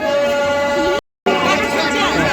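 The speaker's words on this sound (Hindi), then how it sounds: "रास्ते में काफ़ी ज़्यादा भीड़ हो गई है" A large, dense crowd mills along a road at the Bhimsen Dali fair, a Pandav festival celebrating Bhim, with continuous chatter and babble from many voices close by, briefly cut to silence for a moment before the hubbub resumes.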